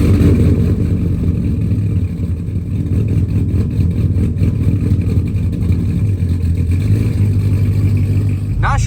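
A truck rolls along a small back road with a steady, loud low engine drone and road rumble inside the cab, holding constant throughout.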